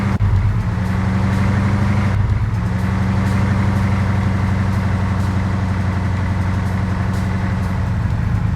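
A car driving in ARMA 3, its engine a steady low rumble with a brief dip in pitch as it shifts, running loud and constant throughout with no voices.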